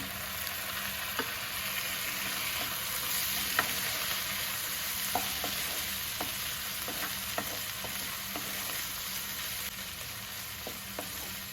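Chopped tomatoes stirred in a hot pan while making a sweet corn sandwich filling, a steady sizzle with repeated scraping clicks of the spoon spread across the whole stretch, no talking.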